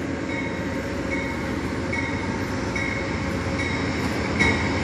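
An Amtrak Northeast Regional passenger train arriving at Charlottesville, Virginia: a steady, close rumble of rolling wheels and railcars, with faint squeals and clicks over the track and no voices.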